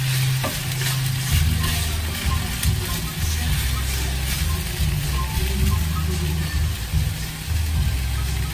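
Fish cake frying in a pan for a Korean side dish, giving a steady broad sizzle that holds at an even level throughout, with a low rumbling hum underneath.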